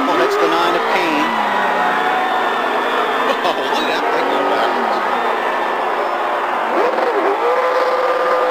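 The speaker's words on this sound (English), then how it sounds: "The engine is, the accelerator is hung wide open, sitting back there against the wall." A race car engine roars continuously at Talladega with its accelerator stuck wide open after a crash into the wall, a loud sustained drone under an excited commentator talking throughout.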